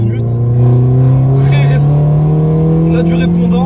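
A Peugeot 208 GTi with a 1.6 turbo engine revs hard and close, its engine note climbing smoothly and steadily in pitch without a break.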